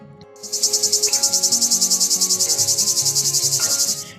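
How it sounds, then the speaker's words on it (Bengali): A cricket chirps at dusk in a fast, continuous pulsing trill, loud and close, starting abruptly and running steadily for a few seconds, at a riverside hill campsite near Siliguri. "সন্ধ্যা নামলেই শুরু হয় ঝিঝি পোকার কলরব"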